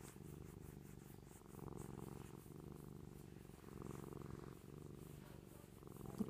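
A pet cat purrs close by, a steady soft rhythmic rumble rising and falling with each breath, alone and quiet throughout.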